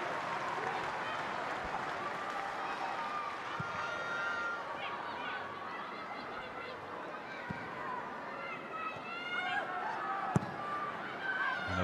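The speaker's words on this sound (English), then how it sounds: "And a big crowd at the Bescot Stadium tonight to watch this game." A large crowd murmurs and cheers steadily at the Bescot Stadium during a women's FA WSL football match, Aston Villa against Manchester United, with occasional sharp thuds and a commentator talking over the continuous roar.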